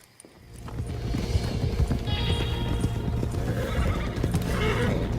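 Horse neighing and whinnying in Red Dead Redemption 2, with steady clip-clop of hooves and ambient game sounds running throughout, no talk.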